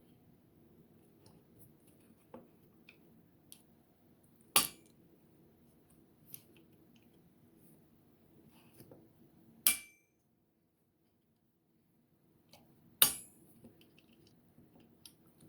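Lever of a Square D Homeline circuit breaker being flipped during a teardown. Three crisp, isolated snaps about four to five seconds apart, with faint handling clicks and rustles between them in a quiet room.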